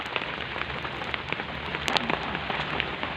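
Heavy rain pours steadily onto surfaces outside during a storm that has knocked out the power, a dense, even hiss of drops with no voices.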